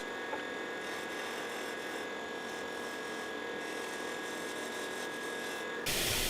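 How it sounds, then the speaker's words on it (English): Wood turning on a lathe with a D-Way beading tool forming a bead on the base of a segmented eyeball: a steady, faint, high whirring and scraping hum that holds evenly throughout, then shifts abruptly near the end. "To make the bead on the base of the assembly, I use one of the D-Way beading tools."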